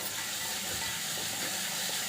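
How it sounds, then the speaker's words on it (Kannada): Onions frying in a pan for an okra palya, giving a steady, soft hiss and crackle that runs evenly throughout, fairly quiet with no talking. "ಈರುಳ್ಳಿ ಫ್ರೈ ಆಗಿದೆ,"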